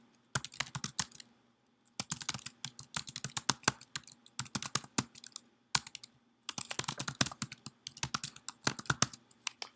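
Rapid bursts of keystrokes clatter on a computer keyboard in a quiet room, with short pauses separating clusters of crisp, close clicks.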